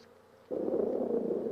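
A dense, steady buzz of many honey bees at the hive swells in suddenly after a brief quiet moment and continues as a low hum.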